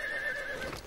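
A cartoon horse gives a brief, clear whinny, a high wavering neigh lasting about a second, heard alone at moderate volume.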